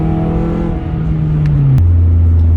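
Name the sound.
Scion tC car accelerating hard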